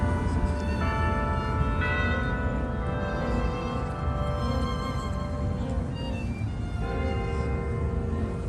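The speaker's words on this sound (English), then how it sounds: "I don't know where the bells are ringing from, but you can hear them." Bells ring in the distance from a Japanese friendship garden in Balboa Park, San Diego, their tones sustained and layered over a constant low rumble of background noise.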